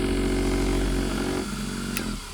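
A BAUER 20V cordless 10-inch random orbit buffer runs with a steady loud motor whir and hum that holds steady and then starts to wind down, close by with no talking.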